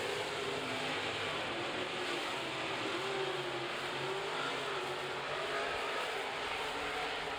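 Modified race cars lapping in a first heat, a continuous loud engine roar from the pack that holds steady throughout without clear pass-bys.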